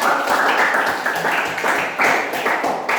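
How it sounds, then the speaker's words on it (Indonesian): Students in a classroom clap for two classmates, a loose patter of hands with uneven bursts that swell and dip over a few seconds, fairly close and unaccompanied by speech. "Tepuk tangan untuk 2 orang."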